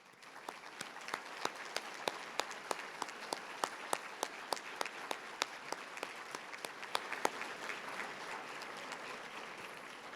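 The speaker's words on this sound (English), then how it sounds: "if you would stand up and we can give you a round of applause if you're in the room" Conference attendees at a real estate agent summit applaud military veterans standing in the room, a thin round of clapping led by a few sharp, evenly spaced claps over softer scattered hands.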